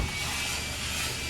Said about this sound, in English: can you turn the vacuum off?